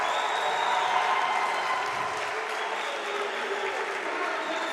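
An arena crowd at a varsity high school basketball game breaks into loud, sustained applause and cheering after an and-one basket, a dense roar of clapping that holds steady throughout.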